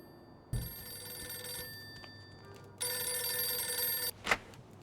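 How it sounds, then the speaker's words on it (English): An old telephone bell in Mafia 2 rings in two long bursts separated by a pause, fairly close and clear over a quiet room tone, followed by a brief clunk. "I'm ringing you because Joe Barbaro gave me your number."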